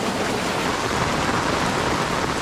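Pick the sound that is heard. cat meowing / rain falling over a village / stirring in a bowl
rain falling over a village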